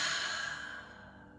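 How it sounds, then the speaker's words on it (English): A single soft, airy exhale during a seated chair stretch, fading gradually over a second or so, close and quiet with no talking. "Exhale."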